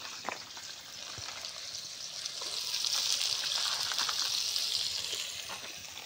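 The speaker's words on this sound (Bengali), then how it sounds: "পেঁয়াজ ভাজ দিছে" Onions for biryani fry in hot oil with a steady, hissing sizzle that swells toward the middle and eases off near the end, heard close with occasional light crackles.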